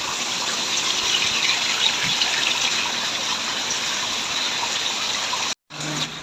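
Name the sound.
water gushing out while draining a swimming pool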